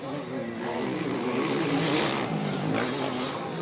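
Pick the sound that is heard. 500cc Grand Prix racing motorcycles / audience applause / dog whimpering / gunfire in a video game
500cc Grand Prix racing motorcycles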